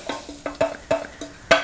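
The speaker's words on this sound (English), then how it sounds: "when you hear the sizzle ease down like that a little bit, that means it's cooled enough to add the milk" A pan that held steak sizzles and is stirred in short bursts, about six scrapes and spits in quick succession, close and fairly loud with a soft frying hiss between them as the heat eases.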